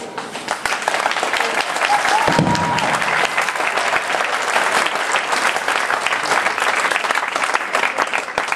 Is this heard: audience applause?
yes